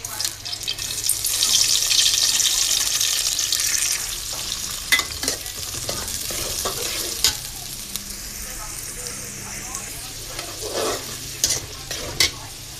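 Rice for pulao frying and being stirred in a pot, with a steady sizzle and scraping spoon strokes, close and moderately loud, with no talk.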